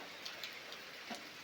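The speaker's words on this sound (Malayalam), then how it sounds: "നല്ല മഴയാണ്" A continuous wash of rain falling on surfaces, with a few distinct drops and taps standing out.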